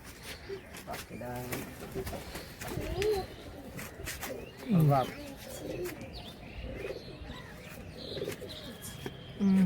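Pigeons coo softly nearby, low throaty calls repeating now and then, with a few chirps and rustling around them.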